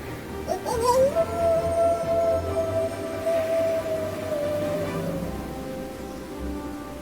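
A lone arctic wolf in cold Alaskan wilderness lets out one long, steady howl that rises briefly and then holds for several seconds, moderately distant, over a constant hiss of rain-like background noise.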